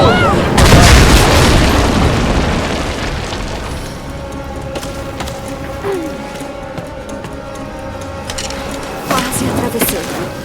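Gunfire and booming blasts in Rise of the Tomb Raider, a heavy explosion-like boom at the start that rolls off into rumble, followed by sharp scattered shots and another burst near the end.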